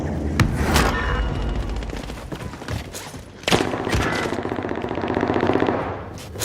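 Gunfire in a shooter video game: loud, dense bursts of automatic fire with sharp individual shots and booms, close and sustained across the whole stretch.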